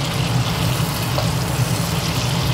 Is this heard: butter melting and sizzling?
yes